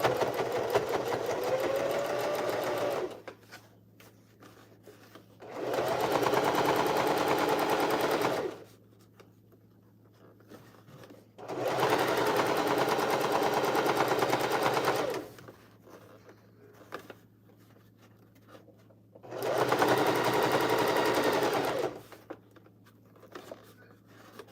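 A sewing machine stitches through several thicknesses of a bucket hat's side seam in three loud, steady bursts of rapid whirring, each lasting a few seconds, with quiet pauses and a faint hum between them.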